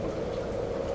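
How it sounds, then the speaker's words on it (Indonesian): Heavy rain pounding the ground at night, a faint, steady, dense hiss of falling water without breaks. "hujan terus menggempur tanah beserta segala benda yang berdiri di atasnya"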